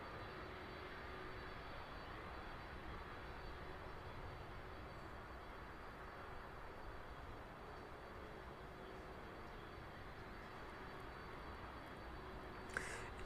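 A Boeing 767 jet on its evening takeoff roll at East Midlands Airport gives a steady, broad engine roar that holds at a moderate distance throughout, with no talk over it.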